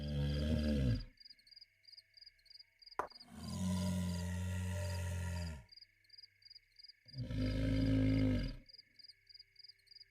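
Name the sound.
giants sleeping sound in video game Black Geyser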